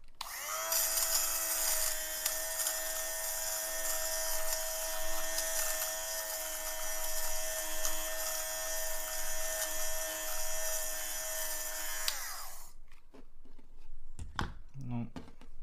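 A Tefal JB1011E0 electric lint remover shaves pills off a knit hat, a loud steady whirring buzz for about twelve seconds that then cuts off, followed by faint handling noises.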